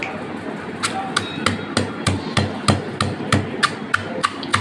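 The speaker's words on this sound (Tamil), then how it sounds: "இப்போ நம்ம திருப்பி இதில் நசுக்க போகிறோம்." Oreo biscuits are crushed for a milkshake with about a dozen sharp, evenly spaced pounding knocks, close and fairly loud, with no talking over them.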